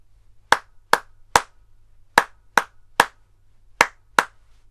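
A single pair of hands claps a rhythm in a quiet room: eight sharp, close claps grouped in short patterns with brief pauses between groups.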